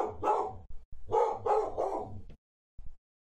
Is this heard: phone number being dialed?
no